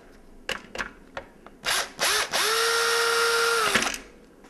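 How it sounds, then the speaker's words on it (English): A power screwdriver backs a screw out of a Nerf Longshot blaster. A few sharp clicks and short bursts lead into a steady, loud whirring run lasting over a second before stopping. "you're going to need to unscrew this screw right here"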